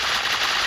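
Gun firing rapidly in double mode, a dense, unbroken burst of shots, loud and close, lasting under a second.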